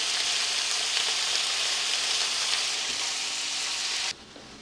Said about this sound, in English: just let it sit there and cook, folks